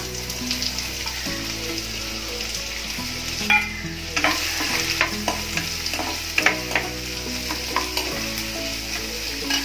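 Onion frying in hot oil, stirred now and then, for a Marathi kurdu bhaji with green chillies: a steady close sizzle with scraping spoon strokes and soft clinks over background music, no talk.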